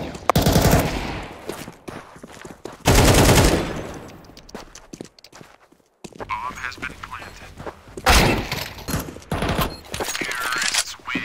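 AK rifle fire in a Counter-Strike match on Dust2 comes in several loud automatic bursts separated by short gaps, with quieter game sounds between them and no talk heard.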